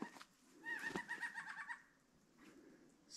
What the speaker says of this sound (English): The birds are picking at.